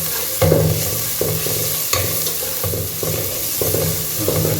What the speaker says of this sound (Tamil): வெங்காயம் நல்லா வெந்துடுச்சு.